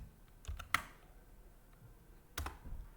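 Keys tapped on a computer keyboard while entering a Linux command in a terminal: a few faint, sparse clicks near the start, then a short cluster of key presses later, quiet and close, with no talking.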